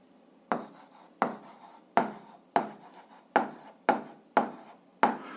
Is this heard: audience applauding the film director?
no